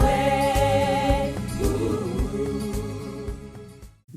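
A choir sings a vaccine parody of a song with rhythmic accompaniment, the music fading out at the end.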